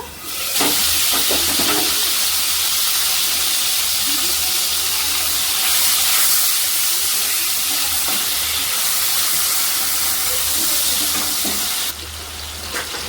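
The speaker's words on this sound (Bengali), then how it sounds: "টমেটোটা বেশ ভাজা ভাজা হয়ে গেছে" Tomatoes frying in a pan just after the lid is lifted, for paneer dorma with potol, give a steady loud sizzle and hiss throughout, close up, with no talking.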